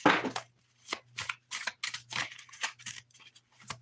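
Heavy tarot cards riffle and slap in quick bursts, about eight shuffles in a row, close up with short pauses between them over a low hum.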